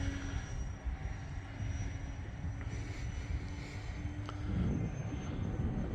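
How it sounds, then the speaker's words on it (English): Beechcraft D18 twin-engine propeller airplane flying high overhead, a steady distant engine drone over broadband rumble, with no talking. "very rarely to me does an airplane look great flying high above, but this one does"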